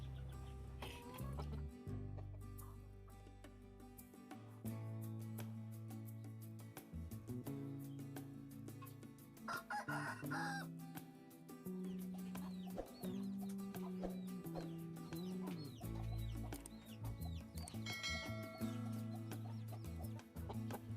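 Young Bangkok roosters and hens in a run-down coop crow and cluck repeatedly, a rooster's crows rising over frequent nearby clucking and scattered bird calls, with no talking.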